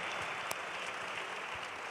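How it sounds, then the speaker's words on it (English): An audience claps at a youth empowerment week event, a steady wash of applause running throughout at moderate loudness with no voices over it. "Please, let's give them a round of applause."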